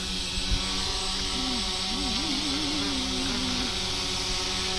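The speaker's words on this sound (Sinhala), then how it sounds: "දැන් ඩ්‍රෝන් එක මෙහෙම කෙලින් කරගන්න" A drone hovers and flies overhead with a steady, close, high buzzing whine whose pitch wavers and climbs as it manoeuvres, with no talking.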